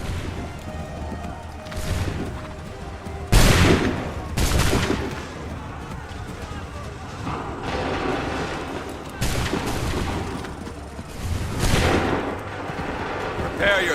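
Musket volleys crack out in Assassin's Creed 3, several loud bursts of massed gunfire a few seconds apart with rumbling echoes, with shouted commands between them.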